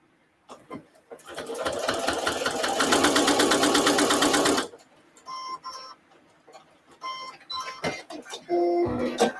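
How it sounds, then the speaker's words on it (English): A sewing machine stitches placemat fabric in a steady, fast whirring run of a few seconds, then stops; brief softer stitching bursts follow among quieter handling noises. "So I can go ahead and stitch that."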